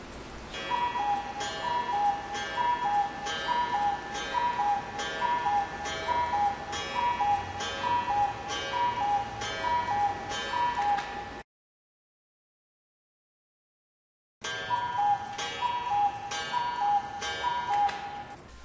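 A one-day hand-carved German cuckoo clock with five maple leaves and a single bird ticks in a steady, even rhythm, close and clear, with a brief silent gap before the ticking resumes.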